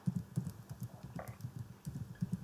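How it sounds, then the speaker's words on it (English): Rapid typing on a computer keyboard, a steady patter of close, soft key clicks in quick irregular bursts, with a brief louder clack partway through and no talking over it. "Give me a sec to type it."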